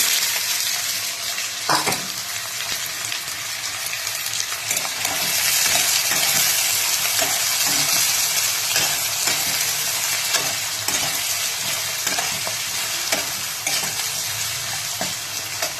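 Onions and a bay leaf frying in hot oil in a pan for pindi chana, a steady bright sizzle with occasional clicks and scrapes of stirring, close and continuous with no talking.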